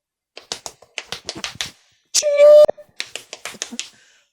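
A voice imitates a typewriter with rapid clicky mouth taps, a sustained ding-like tone in the middle, then more quick clatters, close and loud.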